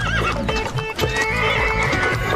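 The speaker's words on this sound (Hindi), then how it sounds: "घोड़ा भागने लगा तो गेंदा डर गया।" A horse pulling a cart whinnies loudly and shrilly while hooves clip-clop beneath, close and prominent over a short burst with no talk.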